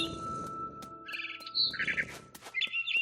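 Sharp high chirps and tweets from a small bird in the video game What Remains of Edith Finch, several quick calls in bursts over a soft tonal background.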